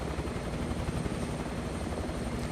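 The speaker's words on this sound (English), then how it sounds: "if you could manage to put your helicopter down in there" Helicopter rotor and turbine drone in Microsoft Flight Simulator 2024 over the rugged Papua New Guinea Highlands, a steady, dense, continuous thrum with no voices.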